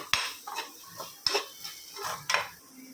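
Potatoes tossed with chilli powder, curry powder and salt masala in a pan for potato fry, heard as a few distinct metallic spoon clinks and scraping strokes against the pan, close up, with quiet gaps between them.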